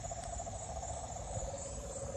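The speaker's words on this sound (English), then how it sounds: "Are those owls?" Night outdoor ambience beside water during net-trap fishing, with steady owl-like hooting and a constant insect or frog chorus droning throughout, continuous and fairly close, no talking.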